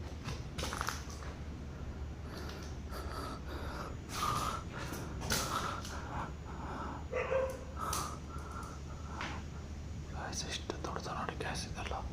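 A dog gives a few short whining, snorting sounds at moderate distance in an office, mixed with breathy whispering and steady background hiss.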